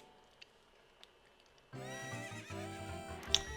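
Horse neigh from the Zelda: Ocarina of Time video game, a loud harmonic whinny bursting in after a quiet stretch with faint thuds, ringing out alone and ending in a bright peak.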